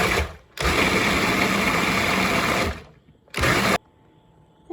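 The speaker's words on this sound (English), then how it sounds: "I've gone ahead and put them into the food processor" Food processor blending peppers, tomatoes and lime, a loud motor whir running for about two seconds, then a short second pulse, close and alone.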